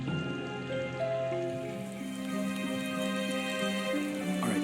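Steady rain falls in the video game Nancy Drew: Midnight in Salem, a continuous patter on surfaces under sustained tonal game music, moderately quiet, no voices.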